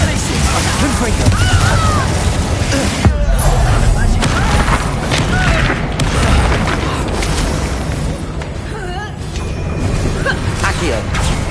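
Spell explosions from the Confringo fire spell in Hogwarts Legacy, with loud blasts and crashing bursts mixed into a continuous dense barrage of game combat effects, and voices heard throughout.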